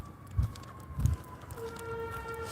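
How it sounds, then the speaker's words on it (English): Fire truck and ambulance sirens wailing at a distance, a steady rising tone drifting beneath low rumbling traffic noise, with a couple of soft thumps nearby. "That's a fire truck and an ambulance."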